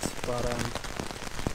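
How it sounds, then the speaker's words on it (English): Heavy rain drums steadily on a tent during winter wild camping in woodland, a dense close patter with a voice speaking briefly over it. "the rain is just crazy"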